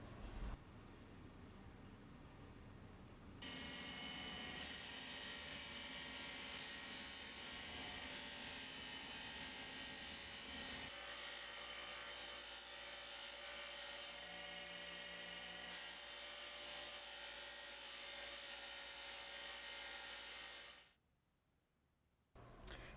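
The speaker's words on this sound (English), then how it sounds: "I'll go ahead and apply some wax using my buffing wheel." A motorized buffing wheel whirs steadily as wax is pressed against a knife handle, a loud continuous hum with rubbing friction that shifts in pitch as pressure changes, then stops abruptly near the end.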